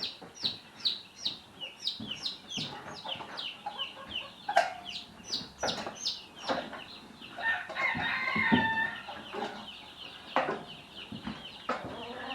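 A mixed Silkie hen clucks among her chicks, repeated soft clucks joined by high, rapid chick peeping, close and moderately loud in a small farm setting.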